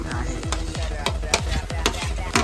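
Tomatoes go into a pan of squid roast, a large batch of about 100 kilos, with steady sizzling frying under repeated scraping and stirring strokes that land at a regular, brisk rhythm.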